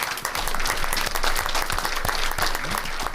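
A school board meeting audience applauds steadily and loudly, a dense wash of many hands clapping that continues without break throughout.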